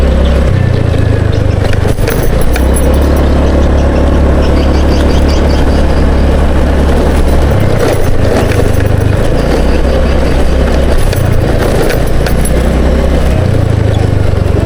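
A motorcycle engine runs steadily at idle close by, a loud continuous low rumble with slight pulsing, in the late afternoon at a transmigration settlement in North Kalimantan, with no talking over it.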